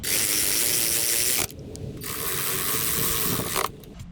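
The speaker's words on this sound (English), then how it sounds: "Grab your Torx T40 screws and start screwing in the bottom of the air box." A ratchet clicks rapidly and steadily, close up, as Torx T40 screws are driven into the bottom of the air box on a 2023 BMW S1000RR/M1000RR, pausing briefly between bursts.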